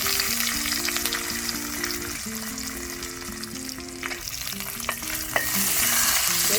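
Mustard seeds, cashews and curry leaves fry in a pan for upma, a continuous crackling sizzle with occasional stirring scrapes, heard close over soft background music and no speech.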